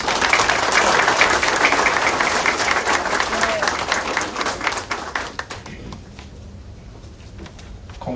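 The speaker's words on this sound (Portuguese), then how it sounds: "a quem a gente pede a doação de aplausos" Audience applause at a trade union's swearing-in ceremony for its newly elected executive board, a dense sustained round of clapping from a crowd that gradually thins and fades toward the end.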